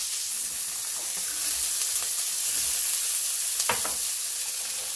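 Vegetables for a homemade winter soup hiss and sizzle steadily in a hot pan, a close, continuous frying crackle with a few sharper pops.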